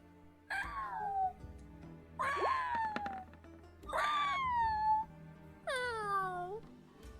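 A cat meows four times in drawn-out, falling wails spaced about a second apart, loud and close, with faint background noise between the calls.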